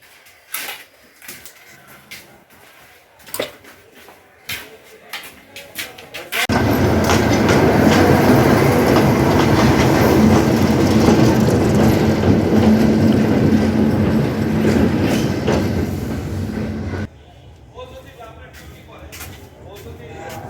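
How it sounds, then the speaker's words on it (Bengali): A local train in Bangladesh rolls toward Santahar junction. After a few scattered knocks, a loud, steady rumble and clatter of carriages runs for about ten seconds, then drops back to quieter noise. "ট্রেনের যাত্রাটি খুব ভালোভাবে উপভোগ করে আমরা সান্তাহার জংশনে চলে যাই"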